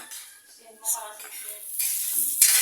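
Food frying and sizzling in a pan over a gas burner fed from a tank, cooked early for a fiesta, with utensil stirring and clinks of pots, the hiss rising louder toward the end and faint voices in the background.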